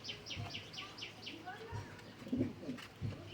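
Toy Lahori pigeons coo in a few soft, low, rounded bursts spread across the moment, with brighter chirps and background chatter above them and a nearby voice talking intermittently.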